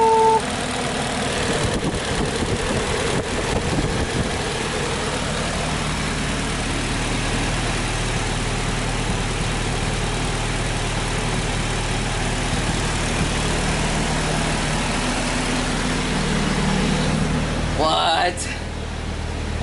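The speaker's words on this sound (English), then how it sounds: "It's idling perfectly fine." A Nissan 240SX sits idling with a steady, even low rumble and a constant hum that carries on for the whole stretch, with a brief disturbance near the end.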